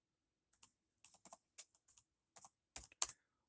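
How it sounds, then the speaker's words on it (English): Keys tapped on a computer keyboard while entering a search query, about a dozen crisp clicks in irregular short bursts, close and clear with no voices. "what I'm going to type into Google is explain"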